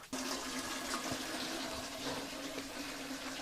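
Rainwater from a garden rain barrel gushes steadily into a watering can beside a greenhouse, a continuous rushing pour that is close and unbroken.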